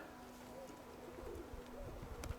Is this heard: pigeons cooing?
yes